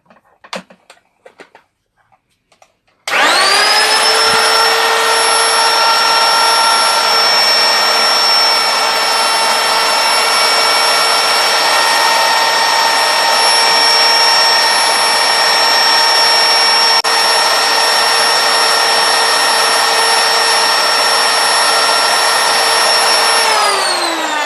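After a few soft clicks, a wood router starts up with a loud, steady high-pitched whine and keeps running evenly for about twenty seconds as it cuts wood for a Darth Maul project, then switches off.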